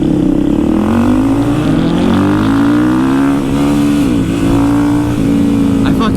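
A supermoto motorcycle accelerates hard into a wheelie, its loud engine revving up through the gears with rising, falling pitch sweeps, close and continuous throughout with wind noise.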